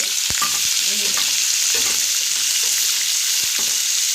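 Small kachki fish fry lightly in hot oil with a steady, bright sizzle throughout, broken by a few sharp knocks and faint scraping of stirring close by.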